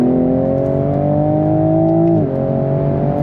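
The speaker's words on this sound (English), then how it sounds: "Fast shifts from that ZF 8-speed automatic." A Toyota Supra Mk5 Final Edition pulls hard under throttle, its engine note climbing steadily and loud, then dipping with a quick ZF 8-speed automatic upshift before rising again; no talking.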